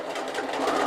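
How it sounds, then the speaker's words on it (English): A sewing machine runs a short locking stitch at the end of a seam, a brief continuous close whirring buzz lasting under a second. "So we're just going to do a locking stitch at the end."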